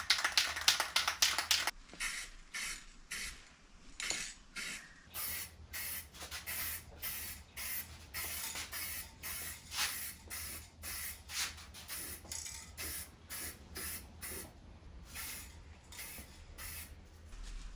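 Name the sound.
spray painting a second coat on an F150 rust repair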